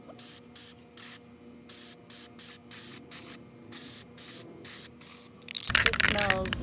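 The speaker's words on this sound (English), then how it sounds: "I'm going to spray the back, and it is not going to be mirror, but when you flip it over, the front side should be." Mirror-effect spray paint is sprayed onto the back of a glass panel in short, even hissing bursts, about a dozen in steady rhythm, before a voice starts talking near the end.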